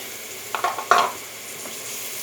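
Onion with two green peppers and two red kapya peppers sautéing in a pan, a soft continuous sizzle broken by a few short scraping stirs near the start, fairly quiet throughout.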